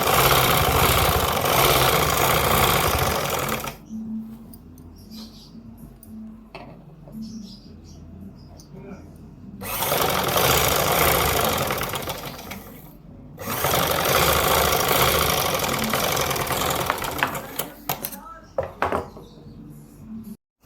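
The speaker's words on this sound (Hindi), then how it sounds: "अब हम इसकी फिटिंग की सिलाई लगाएंगे।" An electric sewing machine runs a fitting seam on a girl's frock in three long, steady whirring bursts, close and loud, with quiet pauses between them where a voice speaks briefly.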